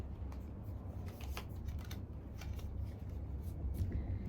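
Tarot cards being shuffled and drawn at close range during a reading, quiet papery riffles and soft flicks in short bursts over a low steady background hum.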